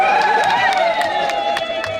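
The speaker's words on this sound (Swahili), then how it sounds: "Makofi na vigelegele." A crowd at the Songwe airport reception for the new AMECEA president, Bishop Gervas Nyaisonga, lets out high, sustained ululation together with sharp bursts of clapping and cheering, close and loud for about two seconds.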